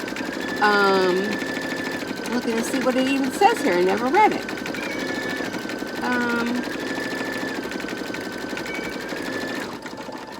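An embroidery machine whirs with a rapid steady stitching rattle at about 1,050 stitches per minute throughout while a person talks over it nearby.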